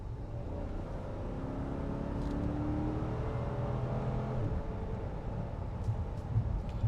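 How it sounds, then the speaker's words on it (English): A 2015 Chevy Tahoe accelerating hard with the gas pedal down, a low engine rumble and rising tone heard from inside, steady and fairly quiet with some road noise. "Let's put the gas pedal down and see how she accelerates."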